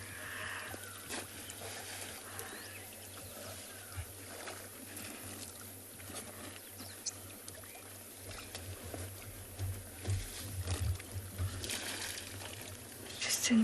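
Water splashes and sloshes at a morning safari watering spot, with soft, irregular trickles and splashes at moderate distance over a quiet outdoor background, growing a little louder toward the end.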